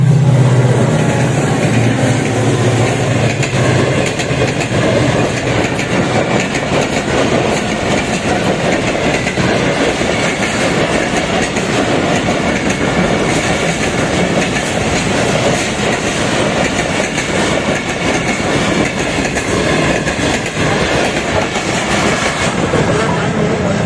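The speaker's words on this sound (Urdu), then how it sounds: "ڈاؤن سائڈ سے اب جو سیکنڈ ٹرین آ رہی ہے وہ 48 ڈاؤن رحمان بابا ایکسپریس" Pakistan Railways 48 Down Rehman Baba Express, led by HGMU locomotive 38221, passing close by with a loud, steady rumble and continuous clickety-clack of wagons rolling over rail joints for the whole stretch.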